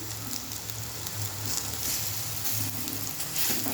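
Taro fritters sizzling in hot oil, a steady close crackle and hiss that runs unbroken throughout.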